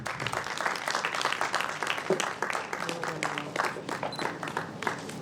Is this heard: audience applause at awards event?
yes